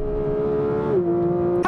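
A 2024 Porsche 911 GT3 with the Weissach Package drives with a steady, loud engine note that holds one pitch, then steps down slightly as it shifts and carries on, heard alone and close with no talk.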